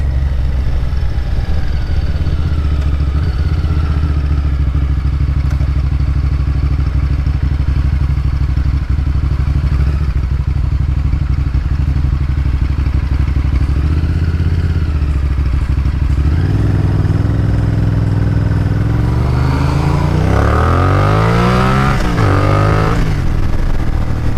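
Steady loud engine drone of a Firestorm motorcycle while riding, holding an even pitch before rising revs and sweeping acceleration near the end, close and continuous with no talking.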